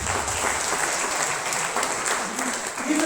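Audience applauding the company's Crown Ambassador rank holders at a business event, loud sustained clapping from a large crowd filling the hall, with voices faintly mixed in beneath.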